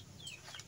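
A chicken clucks softly at close range, a few short throaty calls in a quiet setting.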